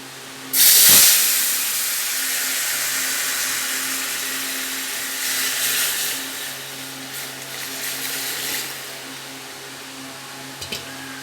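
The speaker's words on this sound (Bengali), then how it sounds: "ডালটা ঢেলে দেবো" Lentils for sour dal poured into hot spice tempering, a sudden loud burst of hissing steam that quickly drops to a quieter sizzle, with softer bubbling swells later, with no voices.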